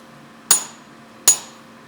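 A blacksmith strikes a chisel into steel while forging a small knife: two sharp, ringing hammer blows, close and loud, spaced about a second apart over a quiet background.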